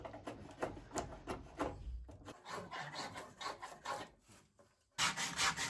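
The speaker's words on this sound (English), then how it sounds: "Now's a good time to talk about this method of sanding a spar." A spruce spar is sanded by hand in uneven raspy strokes, rubbing and scraping along the wood up close, with short pauses and a louder burst of scrubbing at the end; no one speaks.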